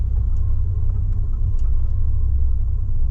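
A 2008 Porsche Cayman S with a 3.4 litre engine, six-speed manual and Milltek catback exhaust rumbles steadily at a low, deep idle, close and loud, with no talking.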